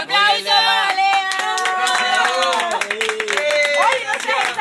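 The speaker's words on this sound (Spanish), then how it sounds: "un aplauso para Lean." Friends at a home gathering break into a short burst of clapping, mixed with cheerful overlapping voices and laughter that carry on after the applause.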